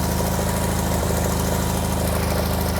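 A Wheel Horse 520 garden tractor engine idles steadily after a new aftermarket carburetor install, a hot, running-in engine giving an even, close, continuous rumble with a regular low pulse and no talk over it.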